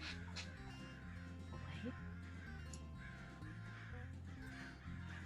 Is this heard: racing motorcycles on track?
no